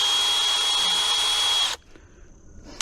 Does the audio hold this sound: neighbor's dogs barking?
no